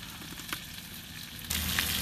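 Cuttlefish stir-frying in a wok with sugar and soy sauce, a steady close sizzle with light stirring scrapes that swells into a louder hiss near the end.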